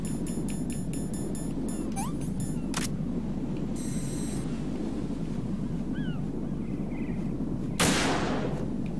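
Gunfire in the video game Metal Gear Solid 2: a few sharp single shots scattered over a steady low hum of game ambience, with one louder burst near the end.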